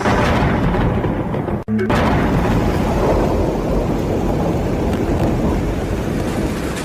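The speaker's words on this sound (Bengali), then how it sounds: "বাইরে বৃষ্টি আবার জোরে পড়তে শুরু করেছে।" Heavy rain pours steadily as a sound effect in a Bengali horror audio drama, with a deep thunder rumble underneath and a brief near-silent dropout partway through before the downpour resumes at full strength.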